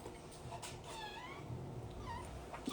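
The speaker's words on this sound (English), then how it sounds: "my cat is meowing" A house cat meows a few times, faint and slightly distant, its short wavering cries rising over a quiet indoor room tone.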